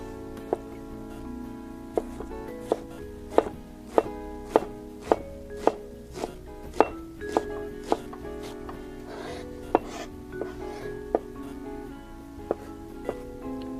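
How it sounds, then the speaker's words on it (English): Knife chopping onions on a cutting board while making a fish stew, a steady series of sharp, fairly loud thunks with small irregular pauses, over a faint background hum and no talking. "Here we cut our onions."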